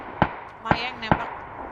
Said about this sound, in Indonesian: Mayeng nembak